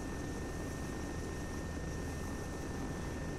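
A transport helicopter in ARMA 3 flies with a steady, dense rotor and engine drone, constant and loud from start to finish, with no voices.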